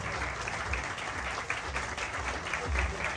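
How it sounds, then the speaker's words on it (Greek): Group applause for the Italian members of a touring party, moderately loud clapping that swells and dips, with voices murmuring underneath. "ένα χειροκρότημα για τους Ιταλούς της παρέας μας"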